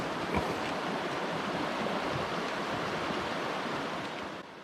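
Rock Creek, a mountain creek in the High Sierra, rushes steadily in a dense, even wash of flowing water that holds close and loud throughout with no voices.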